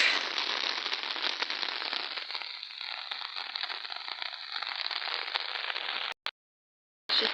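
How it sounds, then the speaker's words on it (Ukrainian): Light autumn rain falls steadily on a vegetable garden, a soft continuous crackle of drops on surfaces, broken briefly by a sudden gap of silence near the end. "Такий гарний осінній дощик."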